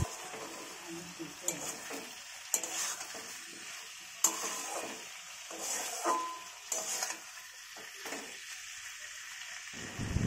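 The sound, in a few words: chicken being sautéed until red in a pan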